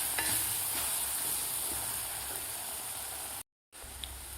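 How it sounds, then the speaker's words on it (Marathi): Banana is stirred into roasting semolina for sweet sheera, a quiet pan sizzle with repeated soft scraping strokes, cut by a brief dropout near the end; no talking. "व्यवस्थित आपल्याला ही केळी मिक्स करून घ्यायची आहे रव्यामध्ये."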